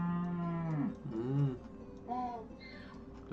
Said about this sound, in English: So many cows.